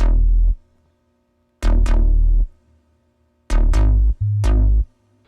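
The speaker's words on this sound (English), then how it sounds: "just to have that extra layer of distorted 808 just gives more" Layered distorted 808 bass hits boom in short, heavy bursts, a single hit followed by a quick double and a cluster of punchy notes, loud and gritty with no voices.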